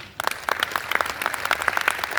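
An audience at a Hindi religious discourse breaks into applause, a scattered patter of hand claps of moderate loudness that starts abruptly and continues for a couple of seconds.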